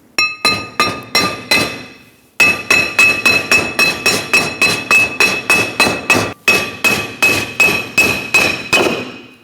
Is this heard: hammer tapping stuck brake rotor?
yes